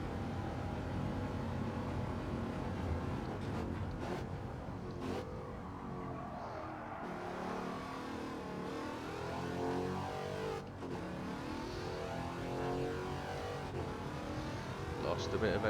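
A Wicked Fabrication GT 51 race car engine in Gran Turismo 7 drones loud and steady throughout, its pitch rising and falling with shifts and acceleration, with brief tire squeal and a voice talking over it.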